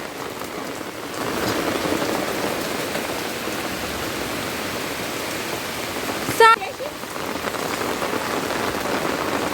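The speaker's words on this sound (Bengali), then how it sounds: "সুন্দর বৃষ্টি হচ্ছে" Steady rain pours down outside a home, a dense continuous hiss throughout with one brief sharp knock partway through.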